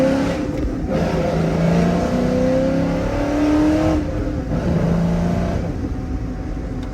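Engine of a pickup truck fitted with an Intimidator SS airbag, pulling away and accelerating on a drive, a steady loud rumble with rising and falling pitch as it gathers speed, no talk over it.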